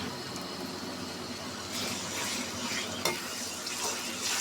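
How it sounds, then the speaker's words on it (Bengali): Onion with ginger-garlic paste fries and is stirred in a pan for a brinjal and river boal fish curry, giving a steady close sizzle with scraping stirs and a sharper clink near the three-second mark, no voices. "বন্ধুরা দেখুন পেঁয়াজ নরম করে ভেজে নিছি এখন দিয়ে দেব আদা রসুন পেঁয়াজের পেস্ট"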